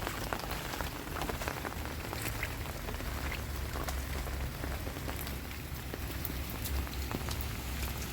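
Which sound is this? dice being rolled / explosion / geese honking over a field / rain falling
rain falling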